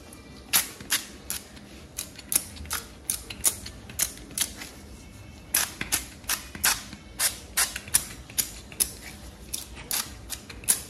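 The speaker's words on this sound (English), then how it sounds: "Let's go ahead and spray some oil on it." A rapid series of sharp, hissing spritzes repeats in quick clusters, like a pump spray bottle being squeezed again and again nearby, spraying cooking oil onto a plantain meat pie.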